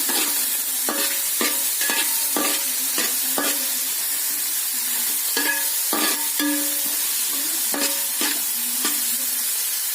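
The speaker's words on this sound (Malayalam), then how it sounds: "നമ്മുടെ സവോളയും ഇഞ്ചിയും പച്ചമുളകും കറിവേപ്പിലയും നന്നായിട്ട് വഴന്നു വന്നിട്ടുണ്ട്" Onion, ginger, green chili and curry leaves sauté in a pan for rava upma: a constant close sizzle broken by a dozen or so rhythmic scraping stirs of a spoon, with no voices.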